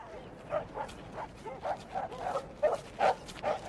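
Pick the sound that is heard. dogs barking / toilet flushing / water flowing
dogs barking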